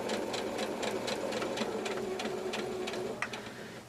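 A sewing machine stitching a pocket seam with a 1 cm seam allowance, running steadily in a fast rhythmic whir of needle strokes, close and fairly quiet, then stopping with a small click near the end.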